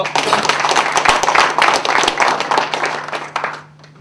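Continuous audience clapping at a formal ceremony of an international green climate association, given to welcome all attending guests together; the applause stays dense and even, then fades quickly near the end.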